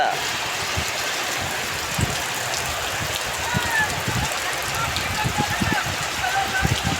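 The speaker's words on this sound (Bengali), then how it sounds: "খুব জোরদার বৃষ্টি হচ্ছে" Steady, dense rain pours down in Malaysia in a constant wash of hiss, with scattered heavier drops pattering on nearby surfaces throughout.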